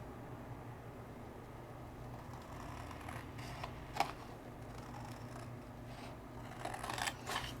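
Scissors trimming a holographic paper mat freehand, faint and close, with soft snips and rustles including a sharper cut near four seconds and a cluster toward the end.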